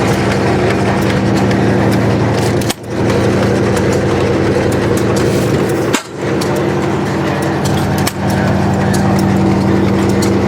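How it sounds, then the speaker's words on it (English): A chainsaw engine runs at an antique engine show and swap, a loud, close, steady drone with a constant pitch, briefly dipping three times before settling back to the same level. "This is just a chainsaw"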